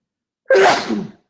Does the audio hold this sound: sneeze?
yes